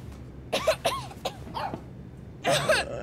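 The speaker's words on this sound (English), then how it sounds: "That boy coughing harder than a motherfucker on one of them commercials" A boy character in the video game Life is Strange 2 coughing hard, several harsh raspy coughs in a quick cluster, then a pause and another strong burst, close and fairly loud over quiet game ambience.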